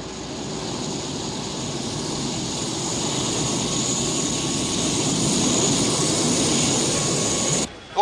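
A steady, loud jet engine roar fills the whole stretch, like an airplane taxiing or arriving at an airport gate nearby, cutting off abruptly near the end.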